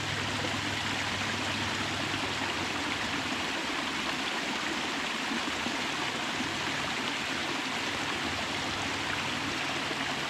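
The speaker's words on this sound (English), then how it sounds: "Another little beautiful waterfall." A small natural waterfall pours steadily, a dense, continuous rush of water that stays even and close for the whole stretch with no voices.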